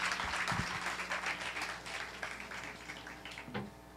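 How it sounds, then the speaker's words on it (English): Audience applause for prison staff at a literary evening at a UK prison, steady, fairly quiet clapping from a modest crowd that tapers slightly over a few seconds. "I just want to give a big round of applause for the staff of Her Majesty's Prisons"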